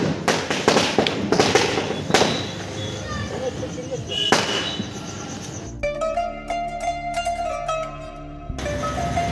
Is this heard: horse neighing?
no